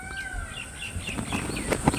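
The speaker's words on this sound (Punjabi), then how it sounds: "ਆਹ ਮੋਰ ਦੀ ਆਵਾਜ਼ ਸੁਣੋ ਦੋਸਤੋ" A peacock calls briefly in the Gurdialpura forest, its harmonic cries sitting at moderate distance over a quiet, rustling outdoor background, with a few soft flutters and clucks.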